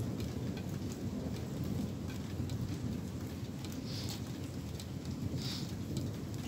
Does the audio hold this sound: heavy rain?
yes